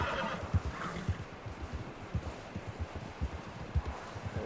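A horse in Red Dead Redemption 2 gives a whinny amid a steady run of clip-clop hoofbeats, the hooves thudding close and loud in an uneven rhythm across the whole stretch, with no talk over it.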